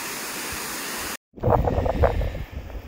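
Broadband rushing water from a waterfall in southern New Zealand, a steady roar that cuts out briefly, then returns louder with gusty low rumble.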